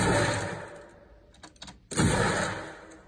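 Layered weapon sound effect from the Warframe video game, a loud, dense roar that thins out, a few rapid mechanical clicks, then a strong renewed blast trailing off, heard close with no talking.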